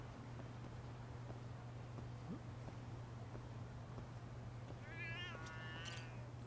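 A cat in the video game Lost Judgment meows a couple of times near the end, fairly close, over a steady low hum of in-game ambience.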